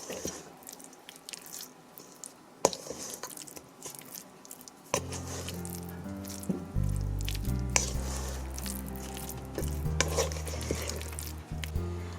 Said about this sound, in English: all you want to do now is mix your spices and your salt into that pumpkin puree